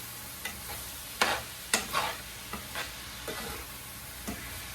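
A cooking mixture stirred in a pan, with a handful of distinct scraping strokes spaced unevenly over a faint sizzle, fairly quiet and close.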